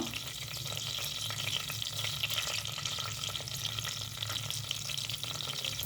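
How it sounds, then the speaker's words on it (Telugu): Mustard seeds and garlic frying in hot oil, a dense, continuous crackling sizzle, close and steady throughout, with no talking. "కొద్దిగా ఆవాలు, ఎల్లిపాయ వేస్తున్నాను"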